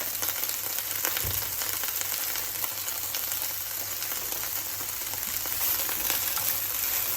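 Okra (bhindi) sautéing in a pan for a bhindi masala, giving a soft steady sizzle with faint stirring scrapes throughout, alone and without voices.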